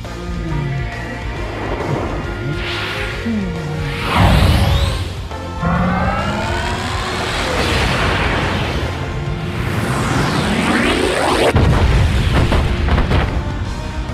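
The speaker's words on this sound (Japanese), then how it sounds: "すごいでかい爆弾が落ちました。" A huge bomb dropping from a magic circle in Hyrule Warriors: deep booming blasts with sweeping, whooshing effects and swelling rumbles, loud and layered, one heavy impact near the middle and another late on.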